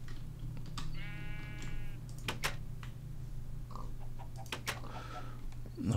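A single sheep bleats in a video game, one short wavering cry standing out over a steady low hum, followed by scattered clicks and taps.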